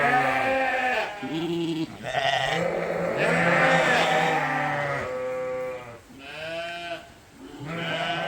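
Sheep on a farm, a ram and a ewe, bleat repeatedly at close range, several long wavering calls overlapping one another in a continuous loud sequence.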